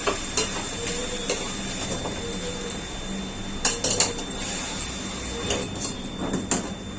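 Chopped spring onions are stirred into a hot tempering pan for rasam, a spoon scraping and clinking against the metal in a few irregular strokes over a faint background hiss, with no talking.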